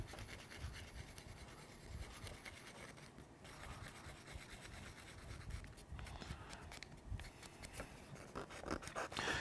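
An emery board files a 3D-printed part with quick, faint, close scratchy strokes that repeat in an uneven rhythm throughout, over a quiet background.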